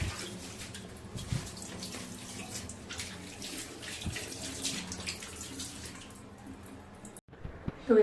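Tap water runs steadily into a basin while hands and feet are washed, a continuous close splashing stream that cuts off near the end, followed by a few brief knocks.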